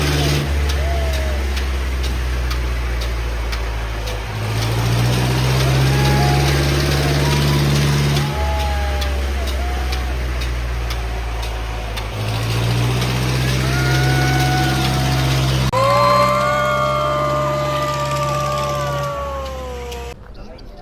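A jungle safari vehicle idles with a steady low rumble that runs throughout, while people talk nearby over the engine.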